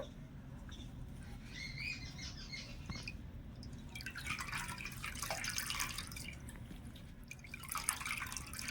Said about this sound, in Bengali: এবারে ছানার এক্সট্রা জলটা ঝরিয়ে নেবো